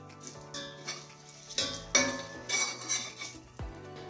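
A spoon stirs red chilli powder into capsicum frying in a pan, with repeated scraping and clinking strokes and a soft sizzle underneath, close and alone without speech.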